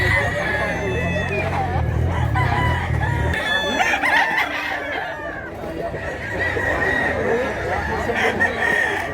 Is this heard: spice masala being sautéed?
no